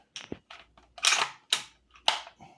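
A Savage 110 bolt-action rifle's bolt opened and worked, ejecting Nosler brass: a series of sharp metallic clicks and clacks, close and distinct, with no talk.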